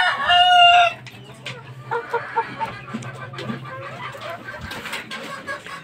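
A bolick green-legged fighting rooster crows loudly and close at the start, then keeps up softer scattered clucks over a low steady hum.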